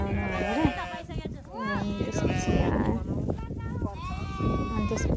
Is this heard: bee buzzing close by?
no